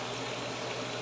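Chicken pieces stewing in a covered pot as they give off their own liquid: a steady, dense bubbling simmer with no pauses, close and fairly loud, with no voices over it.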